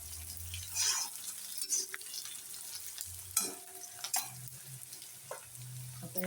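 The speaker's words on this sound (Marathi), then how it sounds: "मिरची पण छान फ्राय झाली" Green chillies with a little salt fry in a pan for sabudana khichdi, a steady close sizzle punctuated by occasional clinks and scraping stirs of a spoon.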